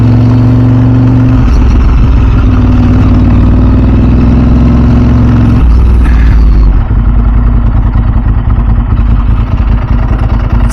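Ducati 996 SPS motorcycle idling up close, its exhaust a loud, steady low rumble with a brief step in tone partway through, no voices.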